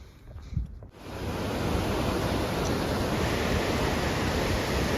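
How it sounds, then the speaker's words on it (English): Waterfall on the Iceline trail in Yoho, a steady, loud broadband roar of falling water that swells in after a brief rustle and holds constant, close and unbroken. "Waterfalls like that, they just don't get old."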